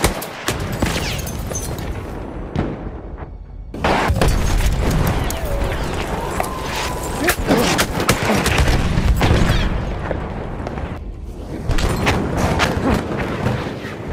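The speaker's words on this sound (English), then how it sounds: "Enemy machine gun sighted!" Gunfire and explosions from a Battlefield 1 operations battle at Fao Fortress, with dense bursts of machine-gun fire and booms, brief quiet gaps between loud volleys.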